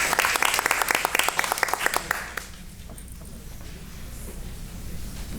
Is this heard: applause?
yes